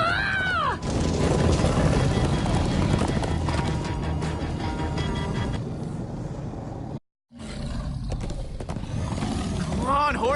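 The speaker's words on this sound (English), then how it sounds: "Come on, horses!" Horses gallop in Minecraft Story Mode with rapid clip-clopping hooves and whinnies, loud and close, under game voices and shouting, with a brief dropout near the end.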